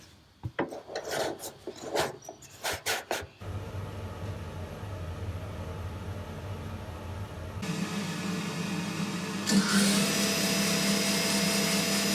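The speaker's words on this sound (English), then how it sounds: "Last thing to do was connect the dust extraction and use it for the first time." A dust extractor hooked to a new Carbatec jointer starts up after some scraping handling noises, then roars steadily as a loud broadband whoosh that rises in intensity partway through.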